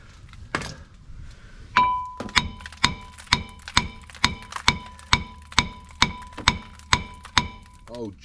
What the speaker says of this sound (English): Let's see if a little hammer will get the brake pads out.